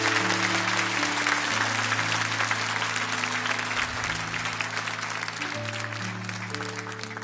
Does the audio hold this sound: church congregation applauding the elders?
yes